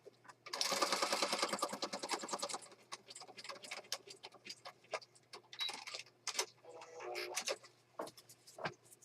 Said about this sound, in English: so I'm going to stitch on here real fast.